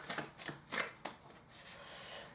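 Handwritten oracle cards shuffled by hand in several quick riffling bursts, crisp papery rustles and flicks, close and fairly quiet, with no voices.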